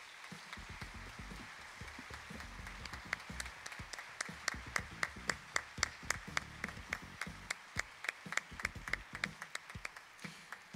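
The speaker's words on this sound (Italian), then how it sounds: "applauso." Theatre audience applause at an anniversary show, starting as a soft patter of scattered claps and building into a crisp, rhythmic unison clapping that beats steadily and evenly for around ten seconds.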